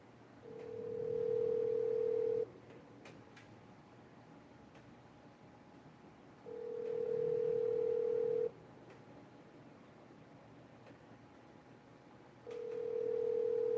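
A telephone call rings out through a handset, three steady tonal rings separated by long silent gaps before the line goes to voicemail, thin and quiet with faint line hiss.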